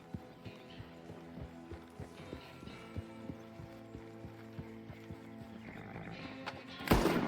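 Horse riding in Red Dead Redemption II, with steady rhythmic hoof clip-clops and faint whinny-like tones over a low hum, ending in a brief louder burst of noise.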